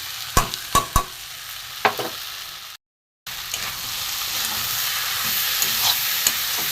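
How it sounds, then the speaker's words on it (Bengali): Taro, potato and prawns fry with salt, turmeric, chilli, cumin, coriander powder and grated ginger in a pan, a constant sizzle with spatula scrapes, briefly cut off for a moment before resuming. "একটু ভালো করে কষাবো"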